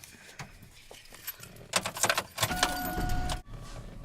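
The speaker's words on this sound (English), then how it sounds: "First, you're gonna need your keys." A bunch of car keys jangles close by in short metallic bursts, followed by a louder rustle and clatter that cuts off abruptly, with no speech.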